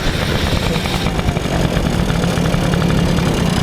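A 40-year-old 1980s Honda Motocompo scooter's small engine idles steadily with a fast, even putter, close and fairly loud, running continuously without revving.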